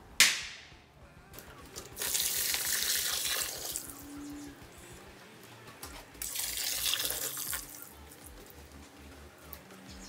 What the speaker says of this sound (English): you're going to want to rinse the sand